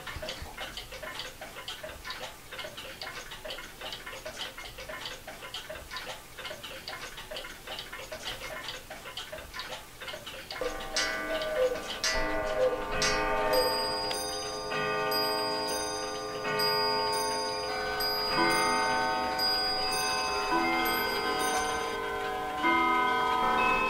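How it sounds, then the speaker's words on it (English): A repaired cuckoo clock ticks in a steady, even rhythm. After about ten seconds the sound grows fuller and brighter, with ringing tones and a repeating chime pattern above the ticking, and nobody speaks. "they used to run the hands around and let that bird come out for me. I just love this clock."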